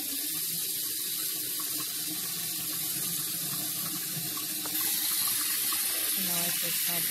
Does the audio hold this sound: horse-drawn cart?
no